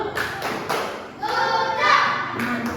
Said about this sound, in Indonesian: Kita berikan tepuk gojok